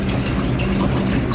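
Water is pumped up inside a cheap air cooler, giving a continuous close gurgling, rushing flow with no talk.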